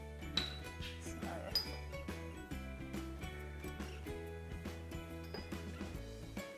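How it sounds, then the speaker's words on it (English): Cocoa powder and vanilla extract are mixed into a thick paste in a glass, with faint, irregular clinks and light scraping of a spoon against glass under soft background music. "I'm just going to mixy mix that into a thick kind of paste"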